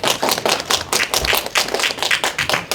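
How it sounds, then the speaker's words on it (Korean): An audience at a commemorative academic symposium in Jangheung claps together to welcome the next presenter, a dense, steady patter of many hands that runs for a few seconds without any voices. "박수로 부탁드리겠습니다."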